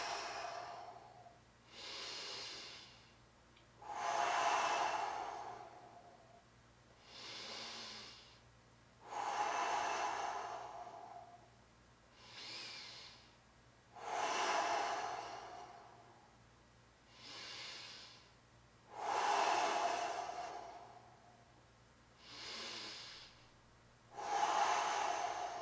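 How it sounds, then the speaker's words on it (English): Slow, deep breaths during a side plank exercise, close and clear, with about eleven long inhales and exhales alternating at a steady, deliberate rhythm, sometimes with a slight snorting hiss, and no talk. "Big inhale, big exhale."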